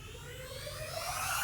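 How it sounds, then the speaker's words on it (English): A shimmering, airy riser sweeps steadily upward in pitch and swells louder over about a second and a half. "We went and tried to grab this angelic riser"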